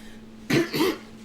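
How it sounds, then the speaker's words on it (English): A person gives a couple of harsh, ragged coughs, two close bursts in quick succession over a faint steady hum, then quiet. "I gotta get a couple of good coughs in here."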